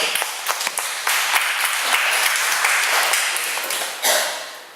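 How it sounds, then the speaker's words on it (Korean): Church congregation applause for singers who performed at the front, a bright burst of many hands clapping with a few sharp individual claps at the start and a final swell before it fades. "그들을 위해서 우리 박수 한번 쳐."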